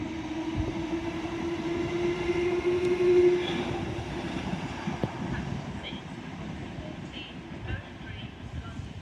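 A British Rail Class 350 electric train, unit 350 129, rolls into Watford Junction station with a steady rumble and rising motor whine, close and sustained, while someone speaks over it.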